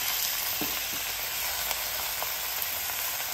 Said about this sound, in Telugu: పసుపు వేసుకున్న వెంటనే మీరు ఆకుని వేసుకోవచ్చు